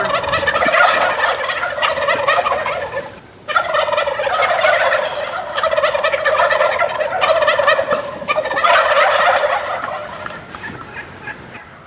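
A wild turkey gobbles loudly and close by during a spring hunt, with several long, rattling gobbles in a row separated by a brief pause.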